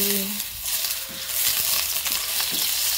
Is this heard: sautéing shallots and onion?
yes